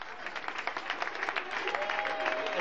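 Store staff clap for each other in a brief ripple of applause, moderately close, with a faint tonal hum running underneath.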